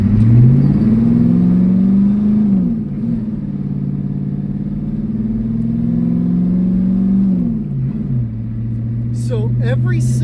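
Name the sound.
1980s Ford F-250 diesel truck running and driving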